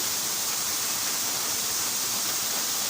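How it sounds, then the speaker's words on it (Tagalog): A strong waterfall in Batangas pours down between rocks, making a dense, loud, unbroken rushing hiss. "lakas ng tulo ng tubig, ang ganda"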